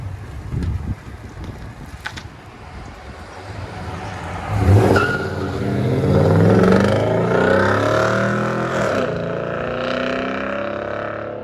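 A 2007 Toyota Tundra with a 5.7-liter V8 and aftermarket exhaust revs up, a deep rumbling climb that holds loud and close, with some wind buffeting on the microphone.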